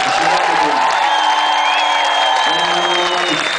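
A crowd at a music video shoot applauds and cheers for the singer, loud and close, with steady clapping and whoops throughout and a voice or two over the noise.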